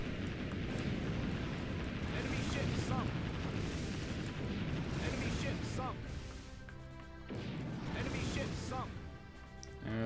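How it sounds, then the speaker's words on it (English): Warship guns and torpedo launches in the naval combat game Warship Gunner 2, heard as a dense, continuous roar of booms and blasts against cruisers, with someone talking over the barrage. "Just gonna keep firing torpedoes like a maniac."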